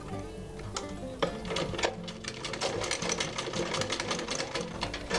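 A sewing machine stitching a cloth face mask runs in rapid rattling bursts of needle strokes, close and steady, with short pauses between runs and no voices.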